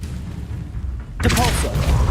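Bombarda blasting spell in Hogwarts Legacy detonates with a sudden loud boom about halfway through, its broad crackling burst ringing out over a low background rumble.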